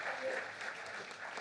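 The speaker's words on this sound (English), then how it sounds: "a big round of applause for Mike back there." Faint, distant audience applause for a behind-the-scenes helper at a talk by a speaker, a short steady patter of clapping.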